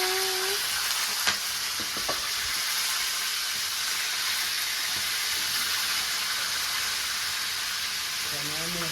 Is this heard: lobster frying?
yes